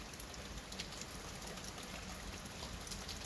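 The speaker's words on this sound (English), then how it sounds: "Going to sleep with the tin roof and it rains" Rain falling on a tin roof at home, a steady dense hiss of drops with faint ticks, continuous and even at low level.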